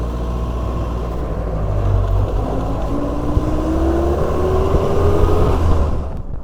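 A Land Rover Series 1 driving with its windscreen folded down, a loud, close, continuous engine drone with heavy wind rush and a rising whine as it gathers speed, easing off at the end.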